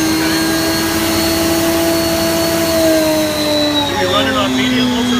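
A 2015 Sapphire Scientific Pro1200 truck-mount carpet-cleaning unit with its vacuum pump runs at high RPM. It gives a loud, steady mechanical roar with a whining tone, and someone talks over it.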